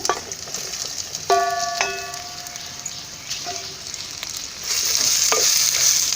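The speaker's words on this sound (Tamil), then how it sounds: "நல்லா எல்லாம் மிக்ஸ் ஆகிற மாதிரி கிளறி விட்டுருங்க" Bottle gourd stirred into a frying sambar base in a pan, a steady sizzle with scraping spoon strokes and a few clinks against the pan, close and fairly loud, no talking.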